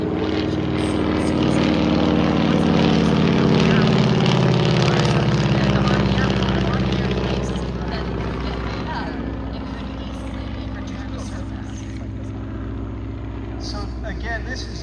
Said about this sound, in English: the engine in this aircraft is a Honolulu R670-610